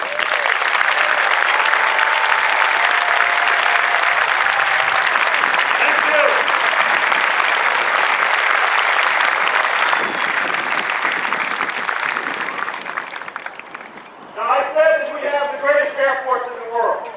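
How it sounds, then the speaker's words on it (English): Sustained applause from a large audience fills an outdoor Air Force basic military training parade, steady and loud for about twelve seconds before fading as the clapping dies down. "Let's give them a round of applause."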